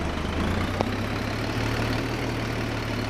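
A vehicle engine in the Roblox video game drones at a steady low idle while reversing, a constant close hum with a single faint click partway through.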